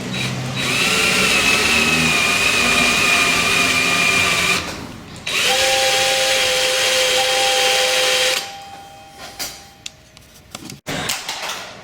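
A power drill whines steadily while drilling out a snapped exhaust stud, stops briefly, then runs again at a different pitch before cutting off, followed by a few clinks and handling knocks.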